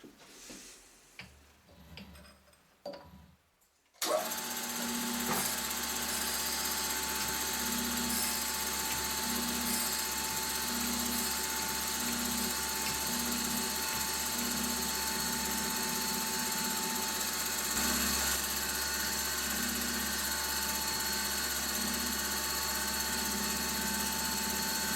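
A surface grinder takes a light cleanup pass of a few hundredths of a millimetre across the bottom surface of a metal part, a steady loud whine and hum with faint regular ticking that holds unbroken for about twenty seconds after a quiet start.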